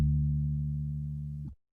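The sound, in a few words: Omnisphere Dark Zimbira Toothbrush sample played on synthesizer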